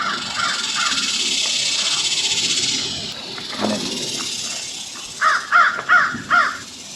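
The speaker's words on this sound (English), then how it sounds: "Listen to the crow sounds here." Crows caw outdoors, a few calls early on, then a close burst of four loud harsh caws near the end over a faint hiss.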